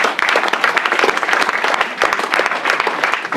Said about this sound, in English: Great work, guys. Great work. Round of applause.